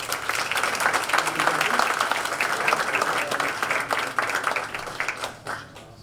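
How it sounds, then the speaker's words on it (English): Audience at a Lions Club meet-the-candidates night applauds steadily in a hall, a dense wash of clapping that fades toward the end. "I know we've applauded for 2 people"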